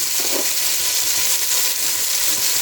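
Butter melting in a pan on a stove for white sauce gives a steady, soft hiss of sizzling, even and continuous with a faint bubbling texture, no voices over it.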